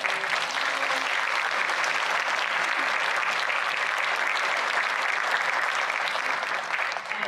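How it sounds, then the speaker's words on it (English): An audience at an art and land relationships panel gives the panelists a round of applause, dense steady clapping that holds loud and even for several seconds. "So a round of applause,"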